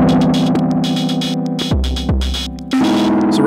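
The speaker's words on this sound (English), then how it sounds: "So right away you can hear some crunchy distortion." An Elektron Model:Cycles synth pattern of chords and pitch-dropping bass notes plays through a Walrus Audio Melee distortion pedal, crunchy, loud and gritty, with no voices.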